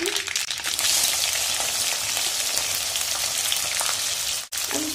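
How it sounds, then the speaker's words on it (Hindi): Roughly chopped onions fry in hot oil in a pan for veg Hakka noodles, a dense continuous sizzle up close with faint stirring, briefly dipping near the end. "अब इस प्याज को मैं 1 मिनट फ्राई करूँगी।"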